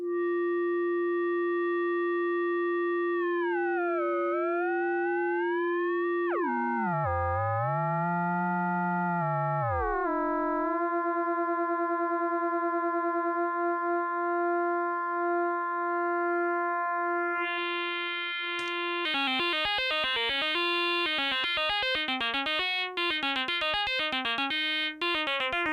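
Synthesizer oscillator patched into a filter, producing steady sine-like tones that sweep and glide in pitch, then break into rapid stuttering, pulsing modulation toward the end, loud and alone without any voice.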